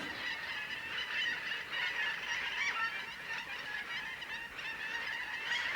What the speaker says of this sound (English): A lot of birds though.